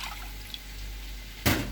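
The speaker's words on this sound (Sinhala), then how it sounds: "මම ඒකට අපේ මිටි කිරි කෝප්පේ දානවා" Thick coconut milk is poured into a bowl of soya meat; a quiet hiss gives way to a short, loud splashing pour at the end.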